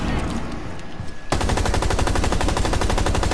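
Rapid sustained automatic gunfire in Rainbow Six Siege, a loud, evenly spaced stream of shots that starts abruptly about a second in after quieter game ambience and continues to the end.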